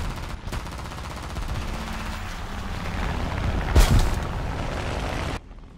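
Sustained rattling machine gun fire from an aircraft in a WWII flight combat game, a Yak-9K in the air, loud and continuous for about five seconds before cutting off, with a sharper burst near the end.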